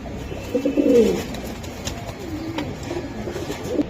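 Pigeons coo in low, throaty bursts, one louder call early on followed by softer murmuring coos, close by with faint background noise.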